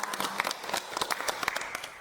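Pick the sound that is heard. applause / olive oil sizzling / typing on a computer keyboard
applause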